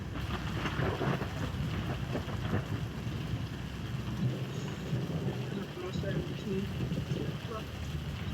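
Rain and thunder from a thunderstorm in the Roblox storm-chasing game Twisted, with tornadoes nearby, forming a steady, dense wash of rain noise with low rumbling underneath, heard throughout without pause.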